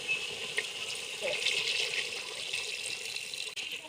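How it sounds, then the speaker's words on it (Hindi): Water poured into a cooking pot of fried potatoes and beef for aloo gosht, a steady continuous splashing pour running throughout, close and moderately loud, with no talking. "अब हम इसमें पानी ऐड कर देंगे।"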